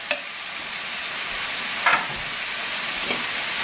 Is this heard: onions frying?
yes